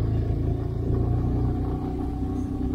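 Car engine on a steep hairpin bend of a hill road, a steady low rumbling drone held close and continuous with no voices and no sharp revving.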